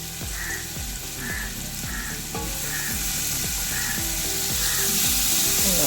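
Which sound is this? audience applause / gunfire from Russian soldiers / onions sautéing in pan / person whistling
onions sautéing in pan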